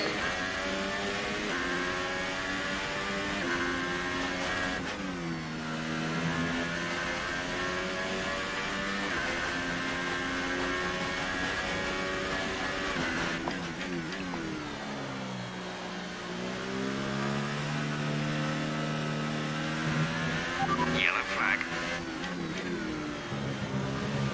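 Formula 1 cars race in F1 2018, a Renault among them, and their high engine whine holds loud and continuous throughout, rising and falling in pitch through gear shifts and acceleration, with no voices.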